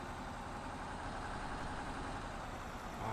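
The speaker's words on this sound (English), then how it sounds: "I do like reversing with this articulated tractor." Articulated tractor engine in Farming Simulator 19 idling and reversing, a steady, close, low mechanical drone that holds at an even level throughout.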